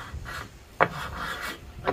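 Rough, rasping sanding of a walnut table top, steady strokes with a couple of sharper scrapes, close up and alone.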